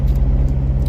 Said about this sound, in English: I thought I'd better listen to the car for a bit